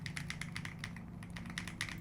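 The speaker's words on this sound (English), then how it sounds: "she also has a Keychron keyboard" A dense Keychron mechanical keyboard is typed on in quick, irregular bursts of crisp clacks, close and fairly quiet, with no talking.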